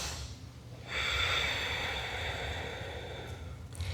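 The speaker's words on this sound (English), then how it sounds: "And she showed us how to do a deep breathing." A slow, deep inhale through the nose during a breathing practice, a breathy rushing sound that swells and holds for a few seconds, close and alone.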